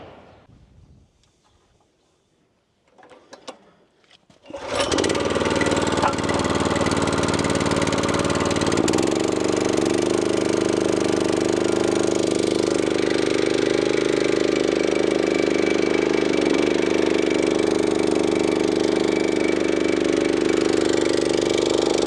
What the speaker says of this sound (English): That's the machine started up there, like you can see. It's easy enough started, and the little engine.